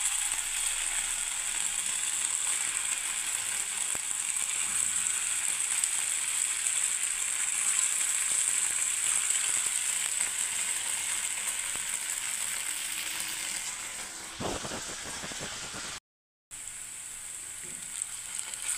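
Chhana (cottage cheese) fritters for a vegetarian chhanar dalna frying in hot oil, a dense, even sizzle that runs throughout, thinning briefly near the end with a short silent gap, no voices.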